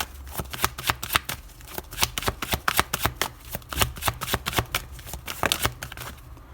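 A deck of angel love oracle cards is shuffled by hand, a rapid run of crisp riffling flicks and soft slaps in an uneven rhythm, close and clear, with no voice over it.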